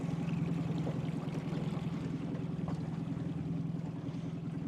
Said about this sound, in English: We're just in my dad's dinghy.